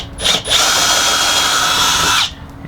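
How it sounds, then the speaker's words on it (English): A power drill bores through a travel trailer's floor while installing LCI Solid Step entry steps, with a loud, steady whine running about two seconds after a couple of brief starts, close to the microphone. "I don't know if the drill bit's long enough to go through the floor"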